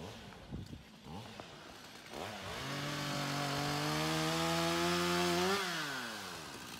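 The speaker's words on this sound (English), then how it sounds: "He's got his chainsaw out." A chainsaw is started and revved up to a loud, steady whine as it cuts wood, holding a high sustained pitch before dropping off, with brief talk and rustling before it starts.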